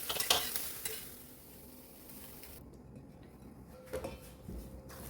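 Tomatoes tossed in a hot pan, a soft sizzle with metallic scrapes and clinks of the pan and utensil, close and without talk.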